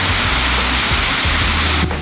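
Fountain water splashes and rushes in a dense, steady roar, loud and close, with faint low thumps underneath before cutting off near the end.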